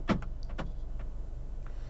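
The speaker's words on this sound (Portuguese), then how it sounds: "Aqui as travas das portas." Fiat Pulse SUV door locks actuating from inside the cabin: a quick pair of sharp mechanical clunks close together, followed by fainter clicks over a low steady interior hum.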